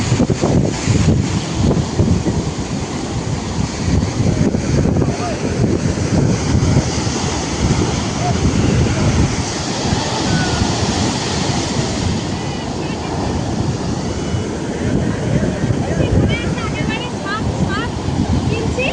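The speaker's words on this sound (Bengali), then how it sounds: "ওই পারে ঢেউটা দেখো কত বড়।" Sea waves at Puri beach roar and wash in continuously, loud and close, with heavy wind buffeting the microphone and voices mixed into the surf.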